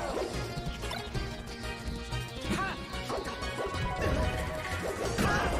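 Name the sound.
Marth's panic get-up attack hit in Super Smash Bros. Melee (video game)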